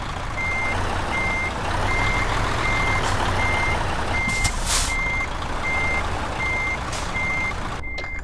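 A truck in Euro Truck Simulator 2 sounds its reversing alarm, a loud, evenly spaced series of about ten beeps over steady engine rumble, with a short hiss midway and no talk.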